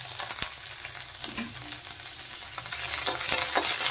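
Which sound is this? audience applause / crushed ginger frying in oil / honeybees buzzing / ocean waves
crushed ginger frying in oil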